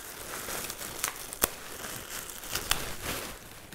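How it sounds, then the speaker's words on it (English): Plastic crinkling and rustling with a few sharp snips and crackles, close by and fairly quiet, no talking. "So this bag is a little bit big. I'm going to try to cut it to size here."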